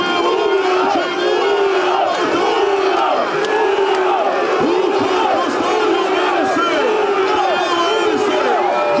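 A large stadium crowd at a bullfight in Velagići, Ključ, roars and shouts continuously, a dense wall of cheering and battle cries sustained loudly throughout with scattered whoops rising above the mass of voices.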